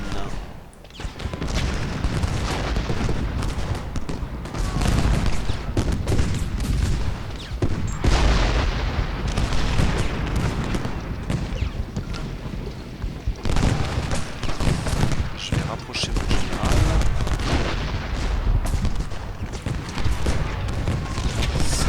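Cannon and artillery fire from the Civil War strategy game Ultimate General: Gettysburg, a dense, continuous barrage of booms and crackling volleys at steady loudness throughout, with no pauses.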